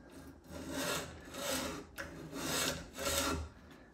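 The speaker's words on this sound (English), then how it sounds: "What I'm using is a flap disc on my grinder." An angle grinder fitted with a flap disc rasps across a mower blade clamped in a sharpening jig, in about four rhythmic scraping passes, close and moderately loud.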